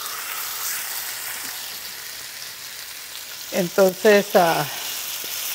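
Chicken sizzles steadily in a frying pan for a Daniel-fast roast chicken with green beans, a broad continuous hiss throughout, and someone speaks briefly near the end over the frying.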